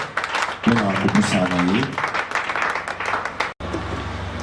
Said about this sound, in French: Quand on acclame encore plus fort.